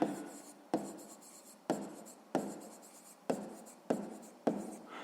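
Handwriting with a pen on paper while working a sixth-grade maths exercise, heard as a series of about seven separate scratchy strokes, each starting firmly and fading, close and quiet with no voices.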